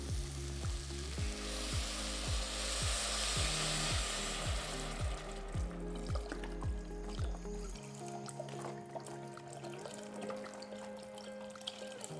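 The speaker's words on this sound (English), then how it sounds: "we're going to add a quart of vegetable stock" A quart of low-sodium vegetable stock is poured into a pot of toasted spices for garbanzo bean and cabbage soup: a steady loud sizzle for several seconds, then quieter liquid trickling and bubbling.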